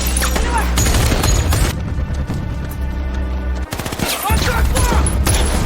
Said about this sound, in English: the 2 continued shooting at the terrorists.